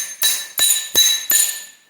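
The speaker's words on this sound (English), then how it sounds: "And then you take your slapper hammer" A slapper hammer strikes a replacement pickup truck bed fender panel backed by a dolly: four sharp, ringing metallic blows evenly spaced, close and loud, each leaving a brief bright ring.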